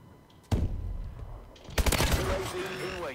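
Call of Duty: Advanced Warfare Search and Destroy match, with a single sharp gunshot followed by a rapid burst of close shots, while players talk over the action.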